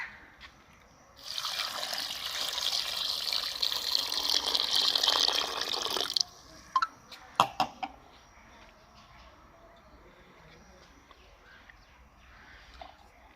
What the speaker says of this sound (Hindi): ये जी हमने गुड़ ले लिया है, 750 ग्राम गुड़ है, और इसके अंदर हम 2 गिलास पानी के डालेंगे।